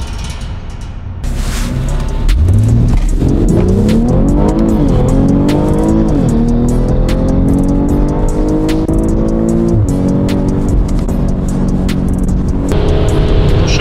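A BMW X3 M40i with a B58 engine races Audi S3 and S4 cars, engines roaring up through rising gear sweeps with a tire squeal at launch, loud and close, continuous for the whole run.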